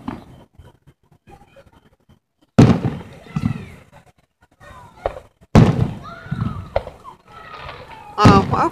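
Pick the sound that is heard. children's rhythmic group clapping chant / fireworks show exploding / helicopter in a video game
fireworks show exploding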